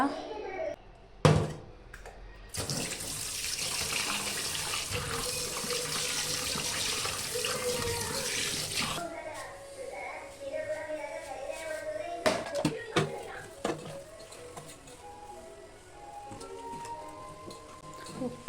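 Fish being washed under a running kitchen tap, several rounds of rinsing: a steady gushing stream for several seconds, then quieter splashing and clattering in the sink, with talking throughout.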